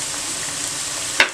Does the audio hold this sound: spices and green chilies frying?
yes